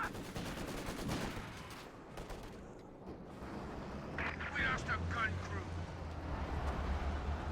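Machine gun fire in Company of Heroes 2 crackles in rapid bursts as it pins infantry, heard at moderate distance under ongoing battle noise and engine rumble, with a commentator talking over it.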